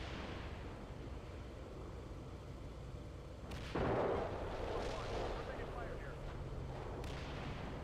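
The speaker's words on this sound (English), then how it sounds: "Bravo 2 provides covering fire onto the enemy position" Covering fire in the Steel Beasts Pro PE tank simulation, as Bravo 2 shells an enemy position: a constant battlefield rumble with one heavy blast partway through and a few sharp reports later.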